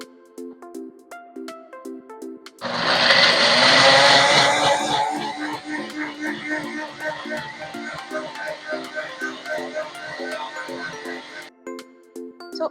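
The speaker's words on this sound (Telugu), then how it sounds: "సో దీంతో పాటు కొంచెం వాటర్ కూడా యేసుకొని మిక్సర్ పట్టేసుకుందాం మనము." Mixer grinder blending green chicken masala with water, an abrupt loud whir that settles into a steady grinding drone for about nine seconds, then stops, with faint background music around it.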